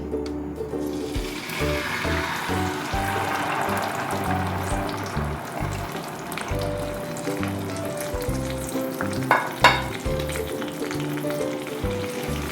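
Spice paste goes into hot oil for a fish salan curry, giving a continuous hissing sizzle with occasional stirring scrapes and a brief louder clatter near the end.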